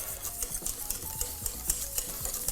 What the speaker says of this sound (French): L'idée, c'est de bien mélanger pour éviter d'avoir des grumeaux.